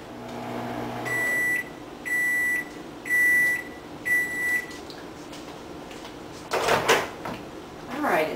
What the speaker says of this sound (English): we're going to put it in the microwave for the recommended time.